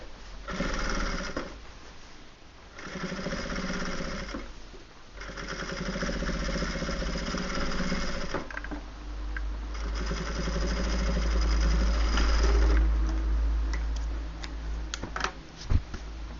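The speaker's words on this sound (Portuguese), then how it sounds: "a gente vai colocar rente com a peça e vai costurar com 1 centímetro de margem." Sewing machine running steadily as it stitches the edges of rugs made from upcycled denim, a continuous mechanical hum with short pauses and a few restarts, heard close up with no talking.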